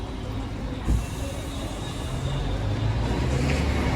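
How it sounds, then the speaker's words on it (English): A noisy National Express coach engine idling and rumbling nearby at a bus stop, a steady low drone that swells slightly louder toward the end, with a brief thump near the start. "Oh my days, that National Express coach is noisy"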